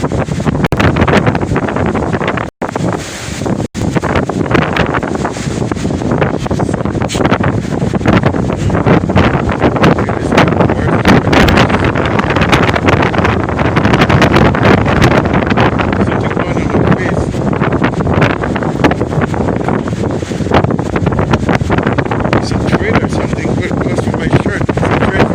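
Strong wind buffets the microphone outdoors, a loud continuous roaring rush that barely lets up; a person speaks under the noise.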